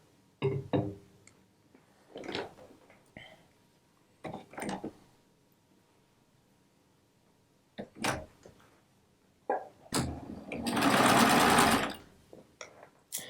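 A sewing machine stitches two rows of a rag quilt together in several short bursts of whirring, separated by quiet pauses, ending in one longer, louder run.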